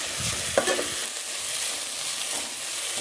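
Egg thoran frying in a pan while being stirred steadily, a soft continuous sizzle with a few scrapes and knocks of the spoon near the start, close and moderately loud.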